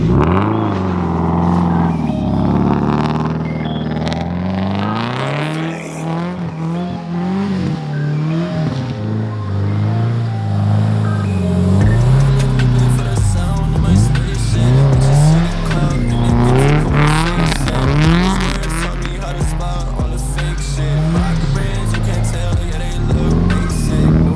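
A Subaru STI revs hard and its tires skid and squeal through snow, the engine note climbing and falling in loud, close surges with sustained screeching, continuing over the whole stretch without a break.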